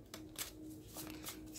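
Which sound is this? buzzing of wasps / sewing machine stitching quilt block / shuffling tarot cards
shuffling tarot cards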